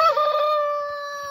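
A rooster crows near a flock of Brahma chickens, giving a single loud, close cock-a-doodle-doo that ends in a long, sustained tone and trails off without any talking.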